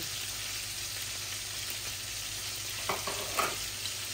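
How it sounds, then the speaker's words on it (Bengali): Bay leaf and five-spice (panch phoron) seeds sizzle steadily in hot oil for a Bengali rui fish do-pyaza, a close, even crackle with a few brief louder pops and stirring scrapes near the end. "এই যে এখানে একটা তেজপাতা আছে আর 5 ফোড়ন দিচ্ছি।"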